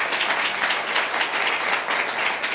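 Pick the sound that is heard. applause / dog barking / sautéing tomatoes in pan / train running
applause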